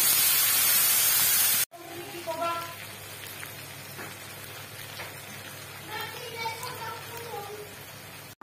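Spice paste with cumin seeds and turmeric fries in oil, opening with a loud hissing burst that cuts off abruptly, then settles into a faint, quiet sizzle under a few scattered clinks.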